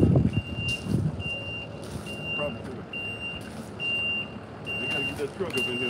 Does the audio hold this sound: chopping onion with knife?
no